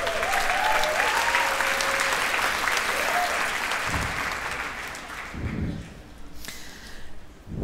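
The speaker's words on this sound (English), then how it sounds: "So give her a big round of applause." An audience applauding loudly in a hall, sustained clapping that fades out toward the end, with a voice speaking over it.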